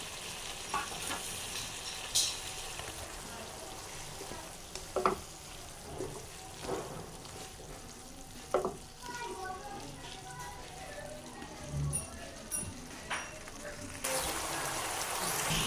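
Vermicelli masala is cooked and stirred in a pan, giving a steady frying sizzle throughout with scattered clicks and scrapes of the spoon against the pan and a brief rise in hiss near the end.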